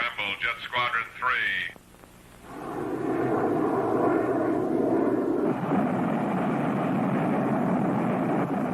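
Jet squadron aircraft scrambling in a TV pilot. A brief radio-style voice speaks first, then a loud, sustained jet engine roar swells and holds steady.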